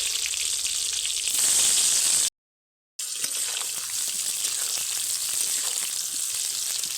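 Salted, turmeric-coated mango pieces drop into a hot spice tempering for a sweet-sour pickle, raising a loud, hissing sizzle that swells briefly, cuts to silence for a moment, then returns as a steady fry, close and without talk.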